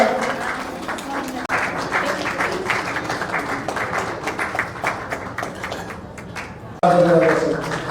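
Wedding guests clap steadily through a hall, the applause blending with voices and ending in a louder burst near the close.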